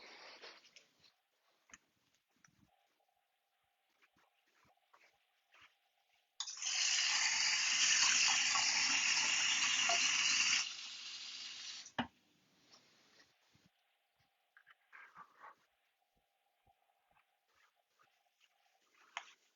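Water runs steadily from a tap into a glass for about four seconds, a loud, dense hiss that starts and stops abruptly, surrounded by quiet room noise and small clicks.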